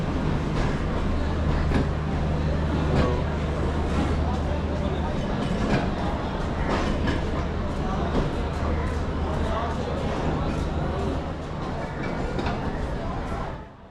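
Long sleeper train of about 20 coaches, including a generator coach, slowly reversing into a station platform: continuous low rumble and engine drone with scattered clanks and rail clatter, moderately distant, under a busy background of station noise.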